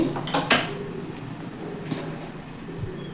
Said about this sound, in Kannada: ಗ್ಯಾಸ್ ಸ್ಟವ್ ಮೇಲೆ ನಾನು ಒಂದು ಬಾಂಡಿ ಇಟ್ಟಿದ್ದೀನಿ ಅದಕ್ಕೆ ಗ್ಯಾಸ್ ಸ್ಟವ್ ಆನ್ ಮಾಡ್ತಾ ಇದ್ದೀನಿ